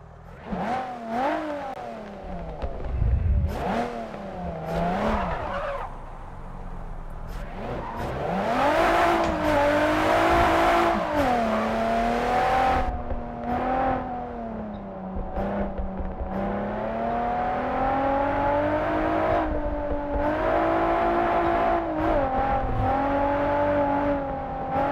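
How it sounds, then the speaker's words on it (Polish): A Toyota Levin AE86 in a drift racing game revs hard and accelerates, its engine note climbing and holding steady at high pitch, with brief tire squeals and skids as the car slides through corners, loud and continuous. "sobie potestujemy furę na przyspieszenie i zobaczymy, jak ona na tych zawieszeniu, na tych oponach będzie się tu sprawować w drifcie"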